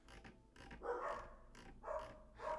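A friendly neighbor's dog barks a few times in the morning, with short bursts arriving in an uneven rhythm at moderate distance over faint background noise.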